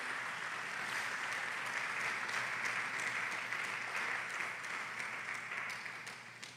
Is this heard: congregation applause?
yes